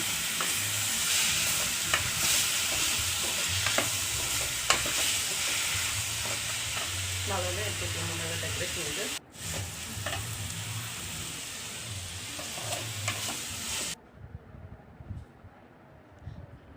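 Onion, capsicum and tomato frying together in a pan for chilli idli, giving a steady close sizzle with scraping stir strokes throughout, then an abrupt cut to quieter, sparser stirring near the end, without speech.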